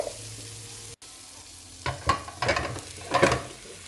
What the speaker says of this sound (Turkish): Ve makarnamın diğer tarafının da pişmesi için tekrar tavaya koydum.